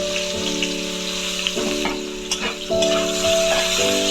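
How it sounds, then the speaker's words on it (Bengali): Cut eggplant pieces fry in hot oil, giving a steady crackling sizzle with occasional spatter pops and soft stirring, close and continuous while a steady tonal hum runs underneath. "ঠিক আছে বেগুনটা ভেজে নিচ্ছি"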